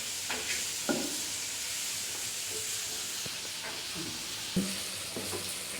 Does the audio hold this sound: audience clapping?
no